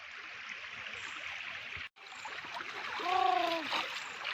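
Steady broadband rush of a stream flowing through a forest, briefly cut off, with a faint bird call rising near the end.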